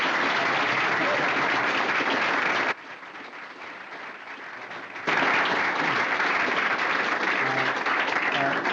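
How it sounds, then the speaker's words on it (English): An audience of Texas students gives a rousing round of applause to two space station astronauts after a long-distance link, loud dense clapping that abruptly drops to a faint level midway and then surges back at full volume. "let's give them a really rousing round of applause"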